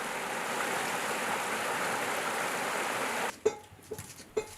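Continuous rushing of stream water, moderately loud and steady for over three seconds, then cutting to quieter splashes and handling knocks as tubers are washed in running water by tribal women in Odisha.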